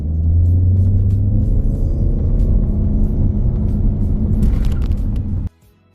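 A Haval H6 HEV hybrid SUV making a launch-control start: a loud, steady low rumble of the engine and drivetrain builds for about five seconds with some wind and road noise, then cuts off abruptly.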